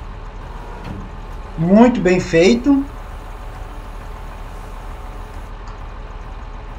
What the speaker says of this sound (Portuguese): Ele tem um ronco de trator.